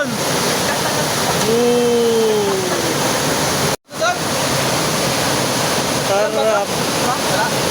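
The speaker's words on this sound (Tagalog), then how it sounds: "Welcome to Tipakan Falls." Steady broadband roar of Tipakan Falls, a waterfall on a trek in Cavinti, Laguna, loud and continuous throughout, with a brief dropout midway and voices calling and exclaiming over the rushing water.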